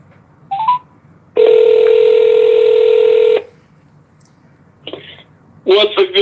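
Telephone call tones: a few short dial beeps, then a long steady tone lasting about two seconds, then more brief tones, loud and close with little else around them.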